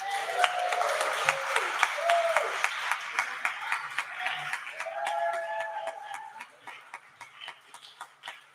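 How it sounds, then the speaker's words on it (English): Audience applause at a university alumni artist panel and award ceremony, dense at first with voices calling over it, then thinning out into fewer, sparser distinct claps. "Please give a big round of applause to all of our student award recipients."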